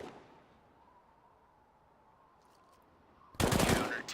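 Burst of rapid gunfire in a Counter-Strike match, arriving loud and sudden near the end after a stretch of low background hum.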